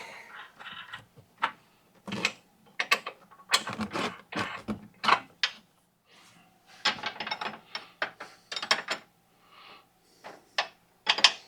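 Nuts go back onto the upper control arm of an 11th-generation Ford F150, heard as bursts of close metallic ratchet clicks and rattling in uneven clusters, separated by short pauses.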